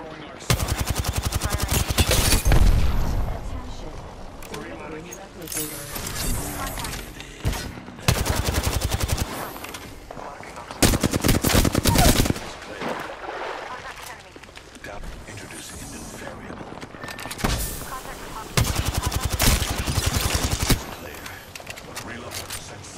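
Video game gunfire in Apex Legends, repeated bursts of rapid automatic fire in several loud bursts separated by quieter gaps, with voices talking in between.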